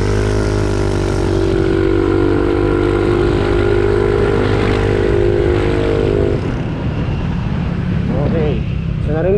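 Honda Click 150 scooter fitted with an APIDO aftermarket exhaust pipe at full throttle, a loud, steady, raspy engine drone held for about six seconds before easing off, with someone speaking over it.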